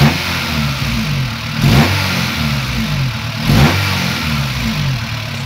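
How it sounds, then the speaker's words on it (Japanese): A Honda Integra Type R DC2 engine at idle gets two light, quick throttle blips, each rising to a sharp rev and dropping straight back to a steady idle, loud and close, with no talking. "軽く吹かしてみます"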